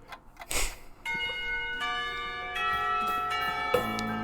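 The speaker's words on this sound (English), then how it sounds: "When the final bell sounds," A school chime rings in the visual novel Katawa Shoujo, a sequence of clear, sustained bell tones struck one after another and ringing out loudly, preceded by a brief soft rustle and with no talking.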